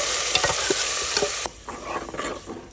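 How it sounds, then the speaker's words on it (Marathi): Grated coconut is being stirred and sautéed with fried cashews and almonds in a pan, with close, loud sizzling and scraping strokes that drop abruptly to softer stirring and light clinks halfway through. "आणि परत असं चांगलं असं परतून घ्यायचं खोबरं"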